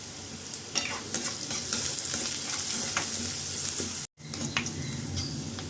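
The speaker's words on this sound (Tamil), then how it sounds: "கொஞ்சம் வெங்காயம் வதங்கிறதுக்கு கொஞ்சம் உப்பு போட்டுக்கலாம்" Onions with green chilies and curry leaves sauté with salt in a pan: a steady close sizzle punctuated by spatula stirring scrapes and clicks, briefly cutting out near the end.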